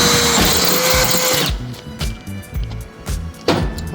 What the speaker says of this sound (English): There's a steel chassis on the inside that's so thick that drill bit's not going through the top and the bottom of it.